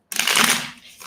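A quick riffle of Hanson Roberts tarot cards, one short papery burst close to the mic that starts abruptly and fades within a second.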